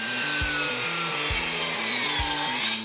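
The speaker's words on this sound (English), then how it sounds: "The lid is made out of more sanded pine, which I cut on the miter saw." Sanded pine boards being worked on a miter saw, giving a steady grinding, rubbing tool noise with three low thumps spaced about a second apart over a stepped repeating drone, loud and close with no talk.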